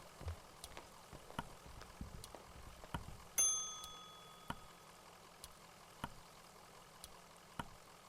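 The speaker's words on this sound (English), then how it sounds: "I guess let's go ring that bell." A single bright bell rings once mid-clip in the video game Kentucky Route Zero and its tone fades over about a second, with soft irregular clicks and ticks before and after.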